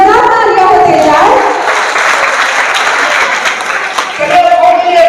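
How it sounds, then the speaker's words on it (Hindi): Loud applause from an audience at a live memory demonstration, dense clapping filling most of the clip between stretches of a voice talking at the start and end. "जोरदार तालियां होते जाए"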